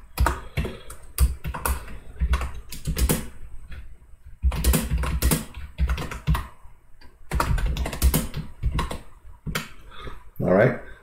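Rapid typing on a computer keyboard, loud close clattering keystrokes in irregular bursts separated by short pauses, with no voices.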